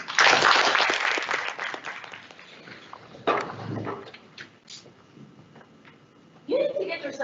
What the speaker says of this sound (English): I would love it if we could start it off on a warm note by giving them a round of applause